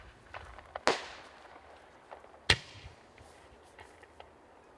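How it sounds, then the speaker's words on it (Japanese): Two sharp, loud bangs about two seconds apart, each followed by a crackling decay, with faint pops and rustles between and another burst at the end. "それでは花火お願いします"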